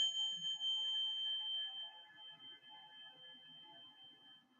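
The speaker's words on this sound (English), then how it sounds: "utilize some chimes" Chimes ring out in a sustained, shimmering wash of pure tones that slowly decay, with soft, faint rustling underneath.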